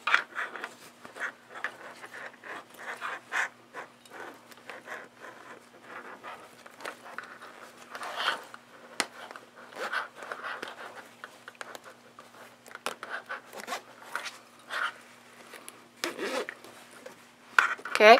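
Zippers being opened on a sewn fabric sewing box, heard as a run of soft close scratchy zip strokes and rubbing fabric handling, with quiet pauses between bursts.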